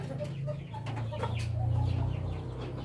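Rhode Island Red chickens and six-month-old roosters cluck and murmur close by in a steady chorus over a low background drone, with someone speaking quietly among them.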